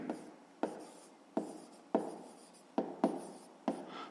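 Pen strokes writing out a fifth-grade math solution by hand, heard as seven sharp scratching taps at a steady rhythm, each fading quickly, close and quiet with no talk.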